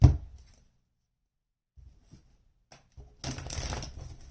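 Tarot cards are shuffled, with a short thump at the start, scattered light card clicks, then a denser closing burst of riffling and shuffling.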